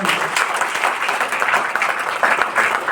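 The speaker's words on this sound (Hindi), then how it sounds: "तो एक बार जोरदार ताली।" A crowd at a business seminar breaks into loud, close applause, a thick, even rattle of many hands clapping that carries on without pause for the whole stretch.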